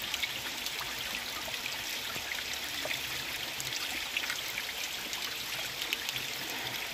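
Natural spring water trickles and flows steadily over rocks at a falls, a soft, continuous babbling and splashing heard alone at low level.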